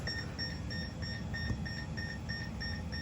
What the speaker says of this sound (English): to clear the buzzer, you can just hit this to acknowledge it